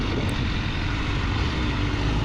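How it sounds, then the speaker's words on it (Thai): A Honda CBR1000RR-R motorcycle being ridden, a loud continuous engine roar with heavy wind rush, steady and close throughout without pauses. "ขับขี่ดีครับ นี่ขึ้นลูก ตึงตึงตึงตึงตึงตึงตึง รถเบาไม่ ไม่หนักเท่าไหร่"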